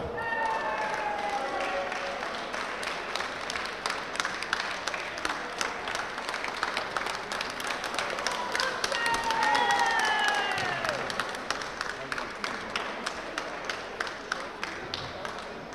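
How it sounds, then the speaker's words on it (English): An audience at a darts tournament, the Bruges Open, applauds steadily for about fifteen seconds, a continuous patter of many hands clapping that rises slightly midway before thinning out. "Big round of applause, please."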